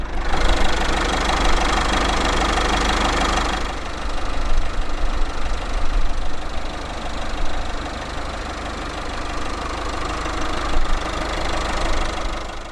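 A 2014 Citroën C4 Picasso's 1.6 litre HDi turbo diesel inline-four idles steadily close by, its low rumble carrying a knocking clatter that holds for the whole stretch with no one talking.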